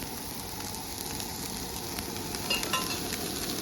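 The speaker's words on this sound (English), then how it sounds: "put the onions so they can just sizzle along" Onions sizzle in a pan on a propane camp burner while fish chowder is being made, a steady crackling hiss with small pops, close and continuous, with no voices.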